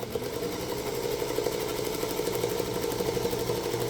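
A sewing machine runs steadily while stitching a foundation paper piecing quilt block, a continuous close mechanical whir with fine rhythmic needle pulses and no talk.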